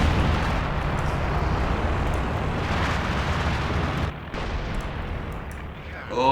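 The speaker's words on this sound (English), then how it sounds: "And another Panzerwerfer barrage landing in here." A Panzerwerfer rocket artillery barrage in Company of Heroes 2 rumbles as dense, continuous explosions fill the battlefield, dipping briefly before the roar swells back.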